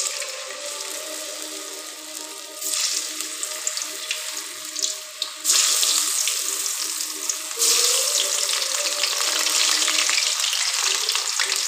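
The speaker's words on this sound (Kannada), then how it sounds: "ಈಗ ಎಣ್ಣೆ ಬಿಸಿ ಆಯಿತು, ಒಂದೊಂದಾಗಿ ಹಾಕುವ." Mushroom kebabs fry in hot oil, a loud continuous sizzle that swells in steps as pieces are dropped in one by one, with no talking.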